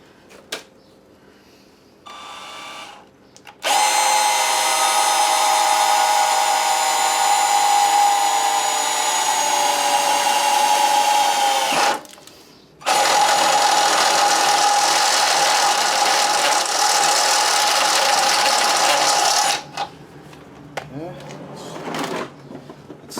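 A power drill whines steadily while enlarging a hole to 7/16 inch for a car battery relocation, in two long, loud runs separated by a short pause, with handling noises before and after.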